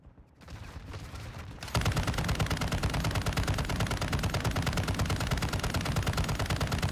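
Video game SMG fire: after a moment of quieter background noise, a fast, relentless burst of loud, evenly spaced shots starts and keeps going to the end.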